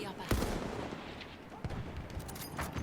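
Sniper rifle gunfire in the World War I shooter Battlefield 1, with sharp shots cracking over a busy battlefield mix of distant fire and explosions.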